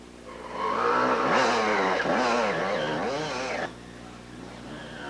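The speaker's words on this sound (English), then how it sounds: "Now here's a guy that's got some momentum. He just motors right on up over the top." A dual sport motorcycle on a muddy 1993 trail ride in McArthur, Ohio climbs a steep hill, its engine revving hard and rising in pitch as it pushes up and over the top, then dropping off.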